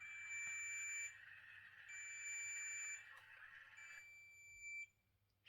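An automatic hair curler gives three long high electronic beeps, each lasting about a second with short gaps between, faint and close in a quiet room, with light handling noises.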